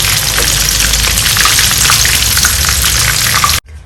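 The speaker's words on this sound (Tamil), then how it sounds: "இதை நாங்கள் எண்ணெயிலிருந்து எடுத்துட்டு மீதி இருக்கிற சிக்கனை ஃப்ரை பண்ணி எடுப்போம்" Chicken pieces for sweet and sour crispy chicken deep-frying in hot oil, a loud, dense, steady sizzle and crackle that cuts off abruptly near the end.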